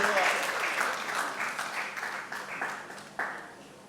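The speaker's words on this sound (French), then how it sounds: "on applaudit bien fort pour elle" Applause from the audience at the Bellevue Awards ceremony for an actress, loud at first then tapering, with a few sharper bursts of clapping and a voice speaking over it.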